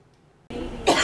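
A single sharp cough bursts out after half a second of near silence, loud and close, with a brief harsher peak toward the end.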